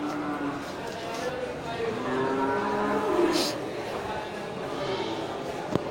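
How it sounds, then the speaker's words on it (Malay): Young male water buffalo at a livestock trade in Aceh, giving a low drawn-out moo among other animal and crowd noise, with people talking throughout. "Ya, untuk tanggal 9 Oktober Bang Win sediakan 4 ekor kerbau jantan."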